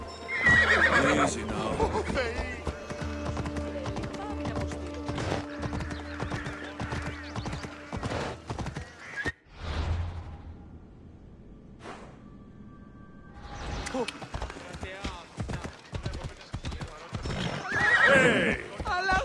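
Horse in Assassin's Creed Odyssey, with galloping hooves clip-clopping steadily and loud neighs and whinnies, the gallop dropping out briefly midway before resuming; voices speak over the riding.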